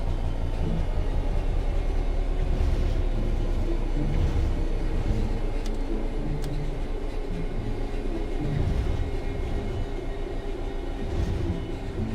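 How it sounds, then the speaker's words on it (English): A train in Train Sim World 3 coasts along the rails on level ground, giving a steady, loud rolling rumble with low clatter and faint squeals throughout, no voices. "The train will then coast on level ground, and the train will only slow down very gradually."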